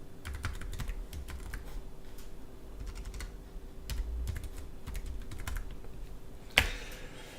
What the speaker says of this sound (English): let me just type that in here for you